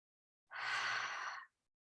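A single deep exhale during a gentle yoga flow in child's pose, a soft breathy whoosh lasting about a second, close and quiet, starting and ending cleanly against silence.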